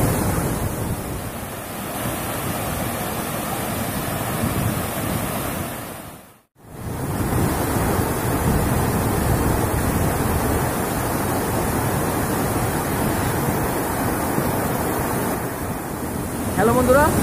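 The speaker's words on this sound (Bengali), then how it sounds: "এইমাত্র আপনাদের যে ঝর্ণা দেখালাম সেটা হচ্ছে এই ঝর্ণার দ্বিতীয় স্তর।" Khoiyachora waterfall in monsoon flood roars as a dense, steady rush of water, loud and continuous, with a brief cut of silence partway through and wind buffeting the microphone.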